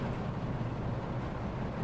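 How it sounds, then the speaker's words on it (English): A military unit's engine idles in the real-time strategy game WARNO, a steady low rumble that holds at an even level throughout with no voices over it. "the sound will change when they stop and start to idle"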